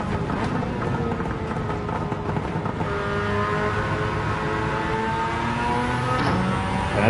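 A race car in Gran Turismo 7 at a Tokyo 600 event, its engine droning loud and close with a rising, steady acceleration tone and no voices over it.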